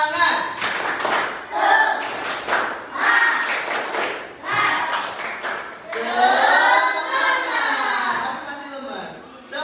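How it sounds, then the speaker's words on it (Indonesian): A classroom of students performs rhythmic spirit clapping (tepuk semangat) in short patterned bursts of claps, loud and close, mixed with chanting voices and a teacher speaking between the rounds. "Tepuk semangat."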